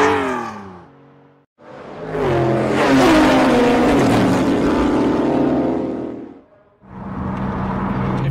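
A Singer-customized Porsche 911 engine revs hard and accelerates, loud and close, with a rising roar sustained for several seconds between brief gear-change dips, then another surge.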